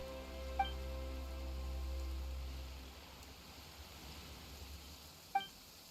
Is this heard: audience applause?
no